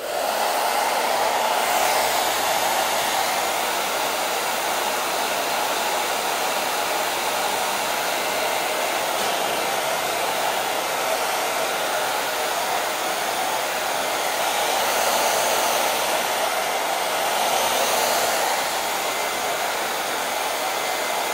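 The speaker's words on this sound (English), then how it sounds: "Let me get my hair dryer" A hair dryer blows with a constant, loud whirring hiss, its airflow wavering slightly as it's moved around, with no talking.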